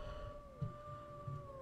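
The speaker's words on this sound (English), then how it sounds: "Mahala is howling." A wolf in WolfQuest 3 howls in a long, faint, gliding tone that slowly falls in pitch, with soft low thumps beneath it and no talking.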